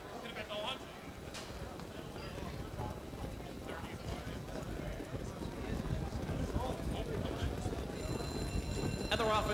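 Trotters in a ten-horse harness race leaving the start at the Meadowlands, a dense rolling rumble of hooves and sulky wheels under a track announcer's continuous calling.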